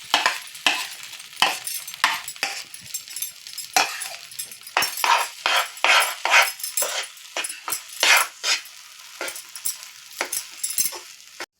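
Mashed moong dal is added to a pan and stirred for akkaravadisal, a sweet dish, producing a quick, irregular run of close, sharp scraping and slapping strokes with short gaps between them.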